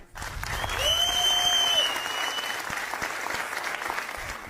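An audience at a talk bursts into loud, sustained applause that swells within the first second and then slowly thins out while still going.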